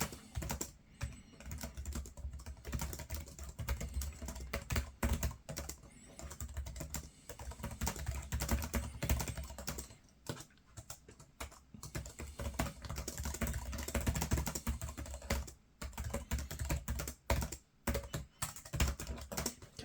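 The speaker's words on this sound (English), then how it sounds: "let's try typing something." Continuous typing on a ThinkPad laptop keyboard, close and fairly quiet: rapid clicky keystrokes in irregular bursts with short pauses, alone for about twenty seconds.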